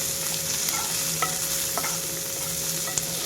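Tomatoes roasting in a pan over a full high flame, a steady sizzle with a few sharp stirring scrapes and clicks close by, no voices.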